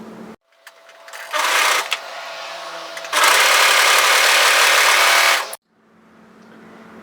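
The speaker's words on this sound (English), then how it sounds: "we are going to overlock together this edge here" An overlocker stitches along the edge of a knitted sweater cuff, whirring in two loud steady bursts with a brief lower-pitched run between them, then stopping abruptly, close and clear with no talk.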